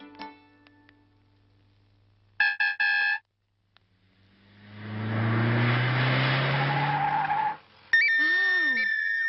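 Street traffic in a comedy film scene: a few sharp horn beeps, then a car engine swells up loudly and holds for several seconds before a final burst of tonal horn and siren-like effects.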